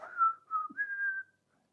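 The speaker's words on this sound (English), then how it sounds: "A bit of whistling." A person whistles a short tune nearby, a few soft notes sliding up and holding before trailing into quiet.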